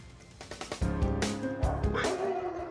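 Homeless dogs at the Kraków animal shelter on Rybna Street bark, yip and whimper in quick overlapping bursts, several animals close by in a lively, noisy chorus.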